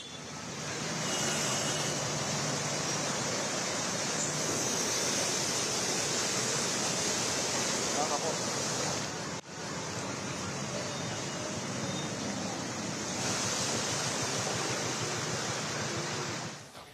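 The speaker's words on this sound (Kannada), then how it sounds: "ಪ್ರವಾಹದ ಅಬ್ಬರ ಜೋರಾಗಿದೆ" Flood water in Himachal Pradesh after heavy rain, rushing in a loud, steady roar that fills the scene without a break, close and continuous like a torrent.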